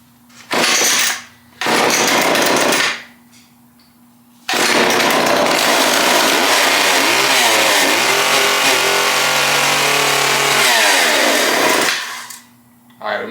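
A small secondhand chainsaw engine after carburetor cleaning, two short loud bursts as it catches, then a long steady run with revs rising and falling before it cuts out, heard close.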